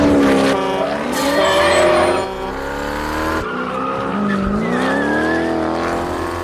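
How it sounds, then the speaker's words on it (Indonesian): Car in a film driven hard, engine roaring loudly with sustained tire squeals and skidding that rise and fall over several seconds, close and dominant with no talk. "Merriman juga menguji kemampuan Donnie dalam mengemudi"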